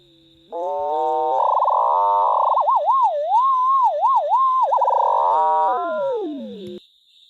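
Synthesized tones driven by machine-learning control from a tracked box position: a bright harmonic voice glides up, wobbles in rapid pitch bends and sweeps back down, loud and alone against a faint high whine.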